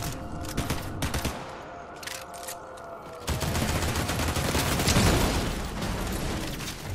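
Gunfire in the video game Fortnite comes as a dense, continuous barrage of rapid shots that grows heavier and louder partway through.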